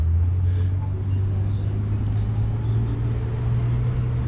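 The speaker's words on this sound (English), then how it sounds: "Uh-oh, BMW gonna run me over." A BMW car on a road beside the Epic Universe construction site, a steady low engine drone and tire rumble that stays loud and close throughout, with no one talking.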